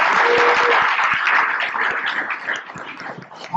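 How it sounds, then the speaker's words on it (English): A benefit gala crowd applauds loudly and continuously, a dense wash of many hands clapping that holds steady and only slightly softens toward the end. "Give Cliff a round of applause"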